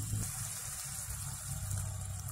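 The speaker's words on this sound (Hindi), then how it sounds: "पानी मैंने दे दिया, आप देख सकते हैं।" Water pours steadily into a pan of paneer and potato curry, a continuous gushing splash from start to finish.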